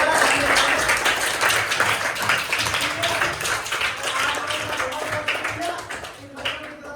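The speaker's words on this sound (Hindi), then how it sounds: "इसके लिए तालियां बनती हैं" Applause from people gathered at a school food distribution drive, lively clapping close by that stays strong for several seconds and gradually thins, with voices mixed in.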